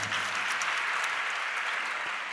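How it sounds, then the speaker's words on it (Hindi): Applause from an audience at a Jain religious discourse in Jabalpur, a dense, even wash of many hands clapping together, steady and moderately loud throughout. "अब देखो, ताली भी बज रही है"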